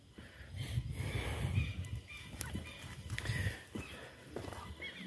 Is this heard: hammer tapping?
no